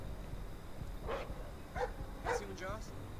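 A guard dog in the video game Splinter Cell Blacklist gives three or four sharp barks, evenly spaced, heard under someone speaking French.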